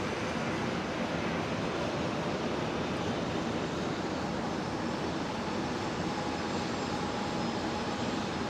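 An Alliance Embraer 190 airliner at Brisbane International Airport produces a constant broadband jet rush that stays loud and even throughout, with no talking over it.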